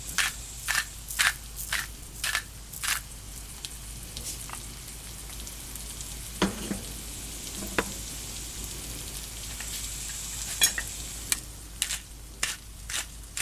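Salted vegetables cooking over a Cube stove fire outdoors: a quiet, steady sizzle broken by a series of sharp clicks and pops at irregular intervals, with a faint low thump or two near the middle.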